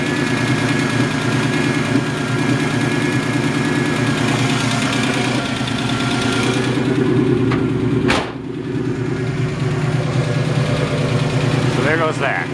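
Engine of a 1972 AMC Ambassador wagon running steadily at idle, a loud low rumble throughout, with a brief clunk near the middle and a short thump near the end.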